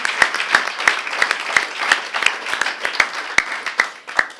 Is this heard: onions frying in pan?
no